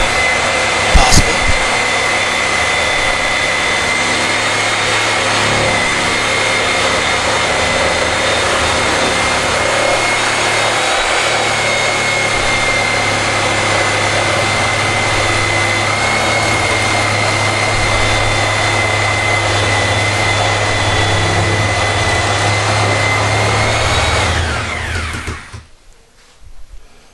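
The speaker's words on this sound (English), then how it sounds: "now that we've got our floor cut out with the reciprocating saw" A reciprocating saw cuts out a rotted bathroom floor, a continuous loud buzzing whine that holds steady for about twenty-five seconds before stopping abruptly.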